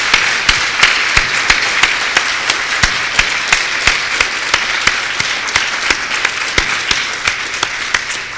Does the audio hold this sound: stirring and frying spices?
no